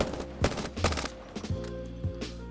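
The Prowler gun in Apex Legends fires in several short bursts of punchy, close shots with brief gaps between them, each volley sharp and loud, and no voice over it.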